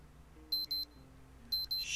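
An alarm clock in Project Zomboid rings in two pairs of sharp high electronic beeps over a faint low background, with no talking.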